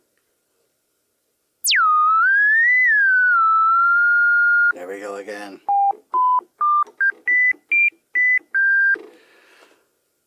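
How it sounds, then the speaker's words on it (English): A Polybrute synthesizer's ladder filter self-oscillating into a pure sine wave, a loud steady whistling tone that sweeps down and settles, then steps through a series of short pitched notes, with a brief spoken phrase in the middle. "Pure sine wave"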